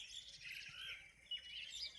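Many small birds chirp and tweet continuously at moderate loudness, a steady overlapping chorus of high calls with no voices, gathered around a bird lover's feeding spot in Shembal Pimpri village.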